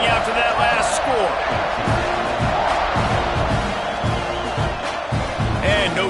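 Dense stadium crowd roars and buzzes after a football score, a loud sustained wash of cheering with scattered whoops and thuds, a commentator talking over it throughout.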